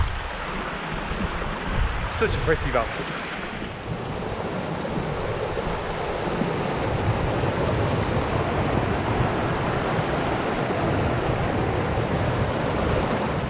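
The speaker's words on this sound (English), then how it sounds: "what a lovely little waterfall." Steady rushing water from a small waterfall at High Cup Nick in winter, continuous and fairly close, with wind buffeting the microphone and a brief spoken remark near the start.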